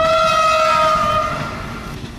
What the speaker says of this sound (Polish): bo jedzie pociąg